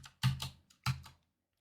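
A short burst of typing on a computer keyboard, a few quick, close key clacks in two small clusters with quiet between them.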